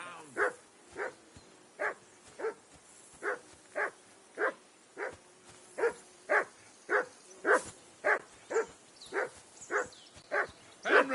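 A dog in the video game Kingdom Come: Deliverance 2 barks over and over in a steady, evenly spaced run of about twenty barks, moderately close, with no voices alongside.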